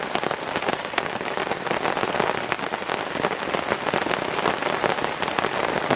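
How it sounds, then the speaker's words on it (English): Heavy rain hammers down in the woods, a dense, loud, unbroken roar of drops striking surfaces close around. "Listen to that rain come down, y'all."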